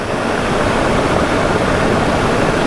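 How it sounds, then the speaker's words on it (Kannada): Heavy monsoon water rushes down a waterfall at Charmadi Ghat in rain and fog, a close, loud, steady broadband roar with no break and no voices. "ಇಲ್ಲಿ ನೋಡಿ ಹಿಂಗೆ ಬರ್ತಾ ಇದೆ ನೀರು"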